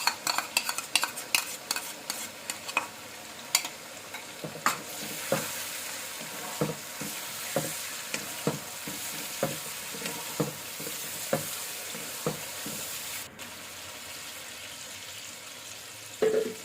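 Chicken karahi spices and yogurt are stirred and fried in a pan, with a steady soft sizzle under a long series of sharp spoon scrapes and clacks against the metal, heard close with no talking.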